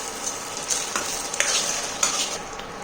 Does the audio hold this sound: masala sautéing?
yes